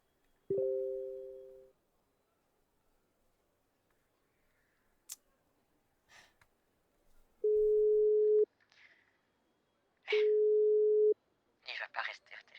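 A telephone line gives a steady electronic tone in separate bursts, one short and then two about a second long, with clicks and brief rustles between them.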